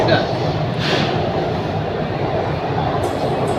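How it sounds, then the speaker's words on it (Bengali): A Kolkata metro train runs under the Ganges river in a tunnel, giving a loud, continuous rumbling roar with rail noise and a brief hiss burst, heard from inside the carriage. "হাওড়া ময়দান থেকে আমরা ট্রেন ছেড়ে মেট্রো ছেড়ে দিয়েছি"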